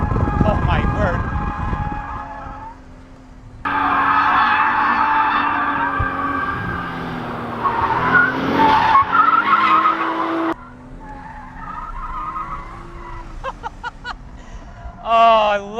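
A manual Toyota GR Supra drifts on a track, tires skidding and squealing in long sustained bursts over the engine's drone, with someone talking and exclaiming in between.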